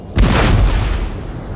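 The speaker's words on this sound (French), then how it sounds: "un canon ou deux qui peuvent nous tirer dessus" A cannon in Napoleon Total War fires as a single deep, heavy boom, then a rumbling roll that fades slowly.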